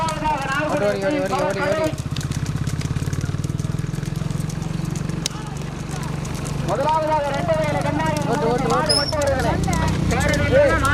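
Small bulls run in a bullock cart race, their hooves clopping quickly under loud, continuous announcer commentary and crowd voices.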